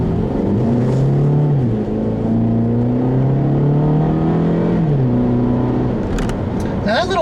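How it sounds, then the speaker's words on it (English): A 2013 Mini Paceman S with its 1.6-liter engine pulls hard under acceleration, its loud, rising engine note climbing through the revs, dipping at a gear change and then climbing again. "I was actually quite surprised the moment I put my foot down on that accelerator pedal."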